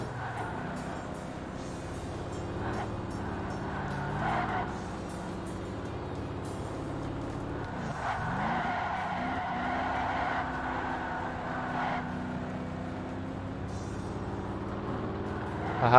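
Racing cars in Ford Racing 3 on Xbox, including a 1973 Mustang Mach 1, drone with a continuous engine whine that rises and falls, and tires skid and squeal partway through.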